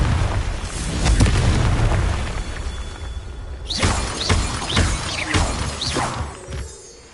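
Confringo explosion spell in the Hogwarts Legacy video game, loud booming blasts with shattering debris, several bursts following one another over a rumbling background.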